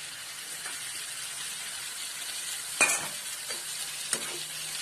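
Ghevda beans stir-fried in a hot pan over a high flame, giving a steady close hiss of frying broken by a couple of sharp scrape bursts as they are tossed.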